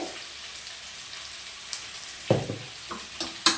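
Salted bitter gourd pieces are stirred in a cooking pot, a soft wet rustle with a few sharp scrapes and knocks of the spoon toward the end, close and quiet, no speech.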